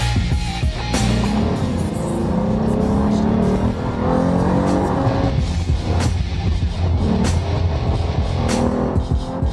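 A 2014 Lexus IS 350 F Sport with its 3.5-liter 24-valve 2GR-FSE V6 gasoline engine on the move, a steady loud drone of engine and road noise with rising and falling engine tones and brief louder surges.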